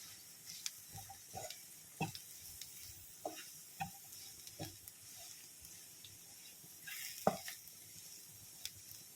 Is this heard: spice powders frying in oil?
yes